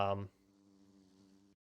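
A bee in the Minecraft video game gives a steady, thin, buzzing drone for about a second after a brief louder burst, then cuts off abruptly.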